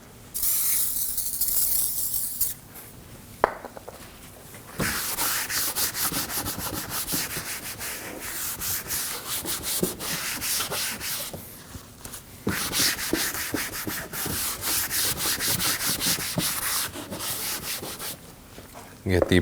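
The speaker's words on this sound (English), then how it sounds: "I'm going to use some glass cleaner and a rag and just clean up this area." A rag rubs glass cleaner over the front bumper of a 2015-2022 Chevrolet Colorado, close soft scrubbing strokes and swishes coming in bursts with short pauses between, no talking.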